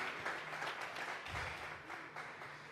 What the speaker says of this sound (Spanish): Le vamos a regalar ofrenda de palmas al Dios de la gloria.